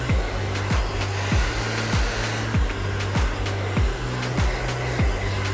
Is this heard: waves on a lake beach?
no